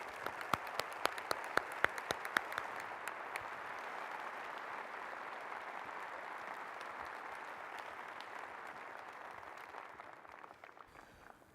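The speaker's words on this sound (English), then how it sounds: "Let's give one final round of applause to our inductees" Sustained audience applause for inductees at a convention opening session, loud and steady, with a few sharp nearby claps at the start before it thins out and fades near the end.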